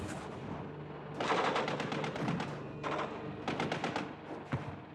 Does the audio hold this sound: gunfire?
yes